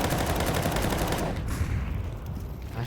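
Mac-10 submachine gun fire in a competitive video game match: a dense, rapid burst of shots close by for about a second, then quieter sparse gunfire and game noise.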